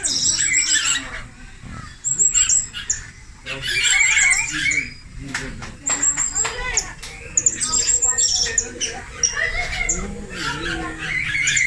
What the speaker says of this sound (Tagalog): kulasisi. Philippine hanging bird